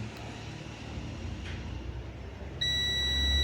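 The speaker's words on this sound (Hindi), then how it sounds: "ये हम लोगों का एनटीसी बीप कर रहा है।" A multimeter beeps while testing the NTC sensor of an Axiom 18-amp battery charger. A steady, continuous tone starts late and holds over faint background hum.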